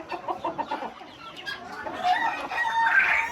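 Hens at a breeding farm for egg-laying breeds cluck in short repeated bursts, and a rooster crows near the end. The birds are moderately close, and no one speaks.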